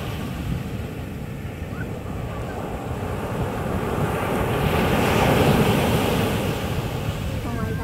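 Surf and wind at a beach, a steady broad roar of breaking waves with gusty wind buffeting the microphone, swelling louder midway and continuing without pause.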